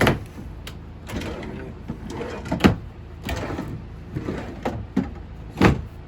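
Drawers and cupboard doors in a 2007 Cruiser 30SK RV are opened and shut, giving a series of sharp, close knocks and slides spaced a second or so apart over quiet room noise.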